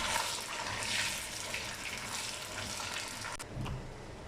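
Chicken pieces fry in a pan for biryani, giving a soft, continuous sizzle and hiss throughout with no talking.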